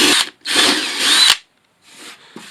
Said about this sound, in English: Now I can drill a starting hole